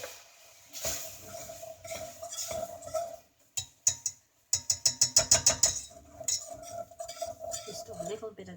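A spoon clinks and scrapes against a metal pan while warm milk is stirred gradually into a cheese sauce for lasagne, with irregular close taps, a quick run of rhythmic knocks mid-way, then softer scraping.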